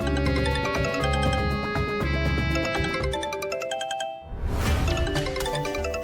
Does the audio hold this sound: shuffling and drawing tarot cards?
no